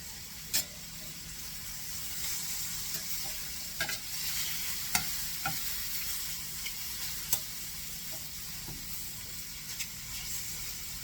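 Food sizzling and toasting on high heat in a pan for beef stroganoff, a steady close frying hiss broken by occasional scrapes and pops of stirring, with no talking.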